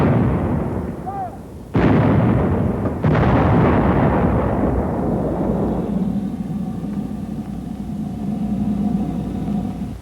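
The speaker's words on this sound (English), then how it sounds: "Here are the 2 whoppers the howitzer pounds out." A howitzer firing high explosive shells lets off two loud, close booms about a second apart, each followed by a long rumbling decay.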